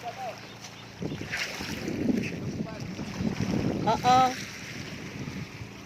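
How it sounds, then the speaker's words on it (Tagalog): A small pump boat motor hums over water at a beach amid wind noise and lapping waves, with distant voices and a brief sharper mechanical burst near the end. "May pump boat. May pump boat. Pump boat approach."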